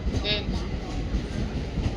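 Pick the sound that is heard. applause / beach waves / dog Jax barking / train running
train running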